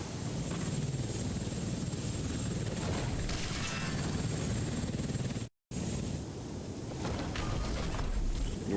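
A helicopter in the video game Front Mission 1st, a steady whirring rotor drone with wind-like noise running continuously, broken by a brief dropout partway through.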